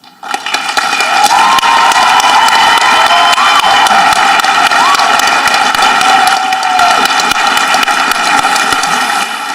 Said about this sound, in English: Would teachers please stand for a round of applause?